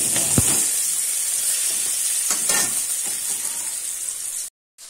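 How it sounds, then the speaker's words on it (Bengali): Cut potatoes fry in hot oil for a Bengali eggplant and hilsa curry, giving a steady, close sizzling hiss with a few sharper crackles and spatters, cutting off abruptly near the end. "তারপরেই আমি কেটে রাখা আলুগুলো খুব সুন্দর করে ভেজে নেব"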